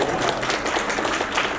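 An audience claps and cheers at a Hmong-language presentation of the book "Fly Until You Die" in Milwaukee. The applause is dense and steady throughout, with no voices rising above it.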